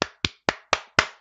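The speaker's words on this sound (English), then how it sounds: "I'm gonna give a little round of applause" One person claps five times at an even, unhurried pace, each clap sharp and close with a short ringing tail, the handclaps alone against a quiet background.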